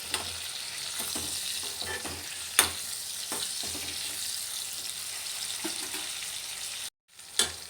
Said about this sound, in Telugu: కొంచెం సాల్ట్ కొంచెం పసుపు కలిపి మొత్తం ఫ్రై అవ్వాలి